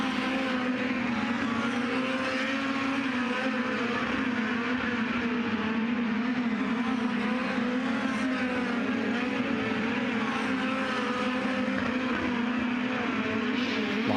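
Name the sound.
USAC midget race cars on Eldora dirt track during hot laps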